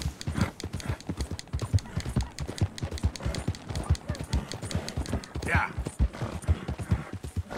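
Horse hooves galloping in Red Dead Redemption 2, a steady rapid clip-clop rhythm running throughout at close range, with a person talking over it.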